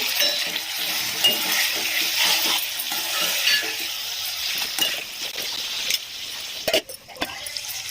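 Tomato slices and brinjal pieces fry in a pan for a tamarind curry, giving a steady, close sizzle that carries throughout, with a few light clinks of a utensil near the end.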